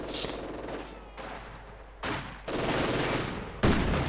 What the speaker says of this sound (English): Nice mortar round followed up with a quick burst there from the MG42 on the bipod.